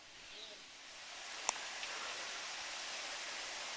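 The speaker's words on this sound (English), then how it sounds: "Sounds like a waterfall." Steady broadband rushing of a waterfall near the Green River in Mammoth Cave National Park, heard at a distance as a continuous, even wash with one brief sharp tap early on.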